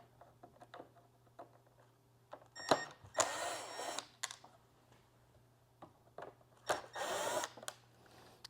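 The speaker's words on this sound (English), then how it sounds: "I have a T10 Torx bit, and I'm just going to take off those screws" A power driver with a T10 Torx bit backs screws out of Lexus ES trim, giving two separate close whirring bursts with small clicks and taps in between, in a quiet room.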